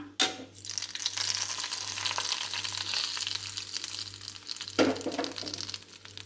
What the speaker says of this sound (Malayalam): കടുക് ഇട്ട് കൊടുക്കാം. മുളക് ഇട്ട് കൊടുക്കാം. കറിവേപ്പില ചേർത്ത് കൊടുക്കാം.